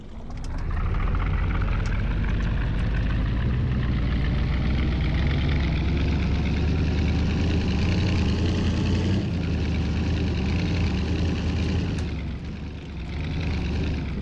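Buggy engine in Farming Simulator 2019 drives along a narrow mountain road in the Alps, a loud, steady motor drone with a deep low rumble that runs unbroken and dips only briefly near the end.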